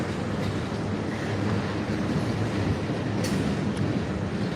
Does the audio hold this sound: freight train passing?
yes